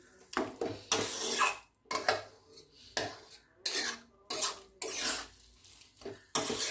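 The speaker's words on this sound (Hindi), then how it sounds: "इसको हम चलाते रहेंगे। हाँ, इसको अभी चलाते रहेंगे।" A metal spoon scrapes and clinks against a pan while mutton keema is stirred and dry-fried, in repeated short bursts with brief quiet gaps between them and no talking.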